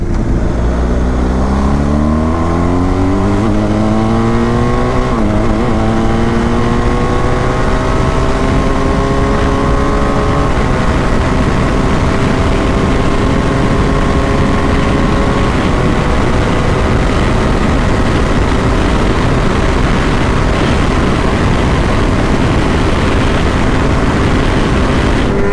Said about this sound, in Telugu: Samuel S1000 too much loud, అసలు అన్ని బైక్స్ కంటే లౌడెస్ట్ ఇదే.